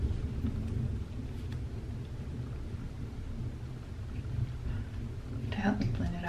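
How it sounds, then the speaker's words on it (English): Thunder rumbles outside during a storm, a steady low rolling roar that lasts throughout and swells near the end, with faint indistinct voice-like sounds over it. "Y'all, it is thundering."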